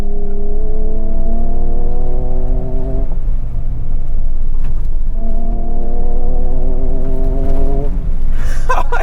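A 400-horsepower 2024 Ford Ranger Raptor truck accelerating hard off-road: a loud, buzzy engine note revs up in two strong bursts separated by a short lull, with gravelly rumble underneath.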